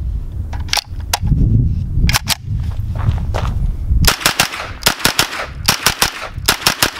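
A NAK9-X 9mm AK-style pistol, imported from Romania and fed from a 17-round Glock magazine, fires at close range: a few scattered sharp cracks over low rumble, then a rapid run of loud, evenly spaced shots.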